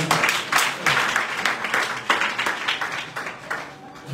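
A church congregation at an Easter service applauds loudly, a dense, steady wash of many hands clapping close by for about four seconds, fading slightly at the end.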